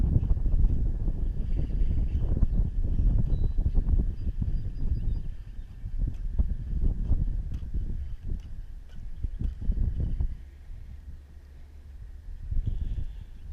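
Wind gusts buffet the microphone at Manlove Lake during a fishing outing, a steady low rumble that swells and eases throughout with no voices present.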